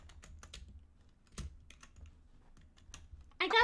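Computer keyboard typing during a Minecraft stream: quick, scattered key clicks and clacks, close and fairly soft, with one heavier keystroke midway and a short burst of sharper sound at the end.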